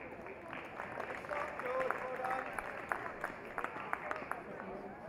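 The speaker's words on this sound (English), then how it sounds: "Applause from the rest of the competitors." Scattered applause from fellow competitors at an outdoor athletics meeting, faint and distant, with light claps and a cheering voice over steady crowd murmur.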